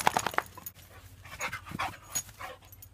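A dog pants close by in quick, uneven bursts outdoors, with a few soft whimpers mixed in and no talk.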